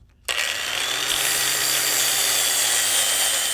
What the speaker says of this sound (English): grab the grinder and grind off the head of this weld